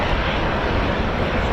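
A loud, steady roar of a heavy US Air Force military aircraft landing at RAF Mildenhall in a crosswind, close and sustained with no talk over it.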